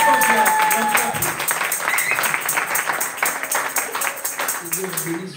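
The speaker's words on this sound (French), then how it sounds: "I'm upset with your clapping." A church congregation clapping in fast, even rhythm throughout, loud and dense, with voices and music mixed underneath.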